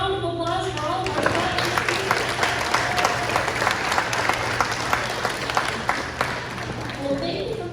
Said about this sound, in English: one more big round of applause for all of our